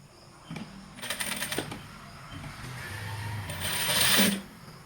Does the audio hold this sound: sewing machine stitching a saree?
yes